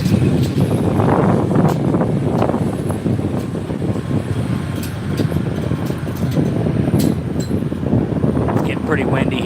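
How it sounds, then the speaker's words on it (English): Gusty wind buffets a phone microphone on a tripod at an outdoor motocross track, producing loud, uneven low rumbling bursts that swell and fade throughout. "Pretty windy here too."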